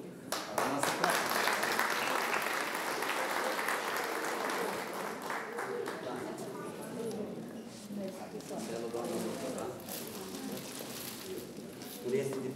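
Audience applause fills a village award ceremony honoring honorary citizens and couples married fifty years, a dense, steady clatter of clapping hands that runs throughout, with voices talking over it toward the end.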